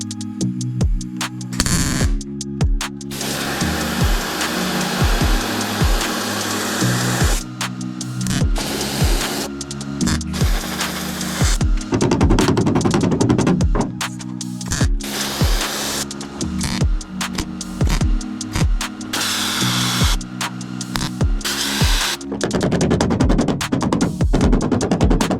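A replacement wheel well panel is welded into a rusted car body, with harsh broadband crackling in stop-start bursts of several seconds separated by short pauses.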